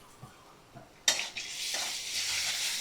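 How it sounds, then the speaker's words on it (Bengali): Onion in a pan gets ginger-garlic paste and cumin paste added, setting off a sudden loud sizzle after a second of quiet scraping; the frying hiss then settles into a continuous crackle. "দিয়ে আমি ভালো করে মশলাটা কষিয়ে নেব।"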